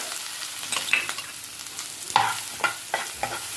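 Onions, two large ones finely chopped, sizzle in butter in a pan, a steady soft frying hiss with occasional scrapes and clinks of a spoon stirring, close up.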